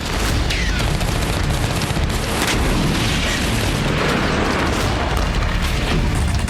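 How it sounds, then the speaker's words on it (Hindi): Explosions from a Ukrainian attack on Voronezh: a dense, continuous roar of booms and rumbling blasts with crackling bursts, loud and sustained throughout. "वोरोनिश में भी यूक्रेन ने कई धमाके किए। विस्फोट के बाद कई जगहों पर आग लग गई।"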